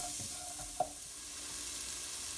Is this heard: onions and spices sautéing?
yes